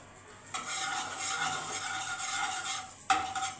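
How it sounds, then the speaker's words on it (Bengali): A bread sandwich with potato filling fries in butter in a pan, giving a continuous soft sizzle with light spatula scrapes and a sharper clink near the end. "আমি এক পিস ভেজে দিচ্ছি বাটার দিয়ে"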